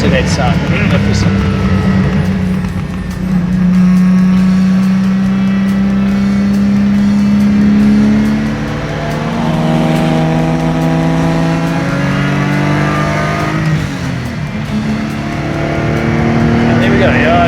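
A Lamborghini Miura engine pulls hard and close, rising in pitch through several gears with short dips at each shift, loud and sustained throughout.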